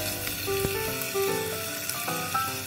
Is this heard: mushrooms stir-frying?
yes